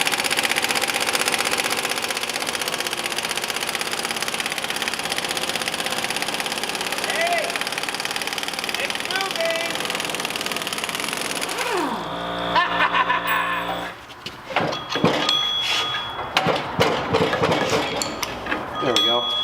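Harbor Freight half-inch impact wrench working on a 1973 VW Beetle flywheel: a steady loud motor drone at first, then choppy rattling hammering bursts, with voices talking over it.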